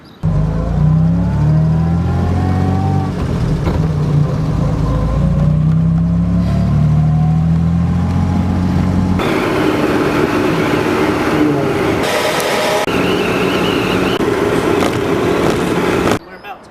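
A Jaguar car cruising down to Hastings on a spring day, its engine and road noise a steady, loud drone throughout with shifting tones as it changes pace, under what sounds like voices or music.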